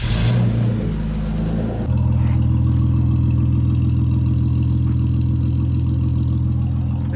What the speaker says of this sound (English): Give it a start, see what she sounds like now.